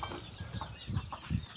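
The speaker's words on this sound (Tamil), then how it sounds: "மறுபடியும் ஒரு தடவை நம்ம கோழிங்களை பார்க்கலாம்." Country chickens clucking inside a coop, a steady run of close, overlapping clucks with a few louder bursts, no talking.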